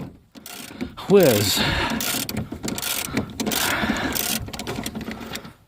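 A wrench ratchets and whirs on a rotted rear control arm of a 1999 Sebring outdoors, a close, busy mechanical clicking and grinding in bursts with brief quiet gaps and a voice over it.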